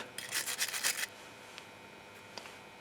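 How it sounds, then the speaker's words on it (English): Rusty brake support bracket contact surfaces on a Peugeot 307 being scrubbed clean, a close rasping burst of rapid rubbing strokes lasting about a second, then quiet with a couple of faint scrapes. "Before we do that, we clean the surfaces that are in contact with"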